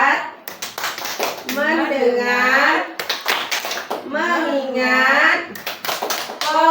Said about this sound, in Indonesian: Kita akan melakukan tepuk fokus.